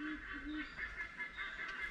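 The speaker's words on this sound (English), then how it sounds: "That is definitely a pair of seagulls." Two seagulls calling back and forth with harsh, honking cries, repeated several times over steady outdoor background noise.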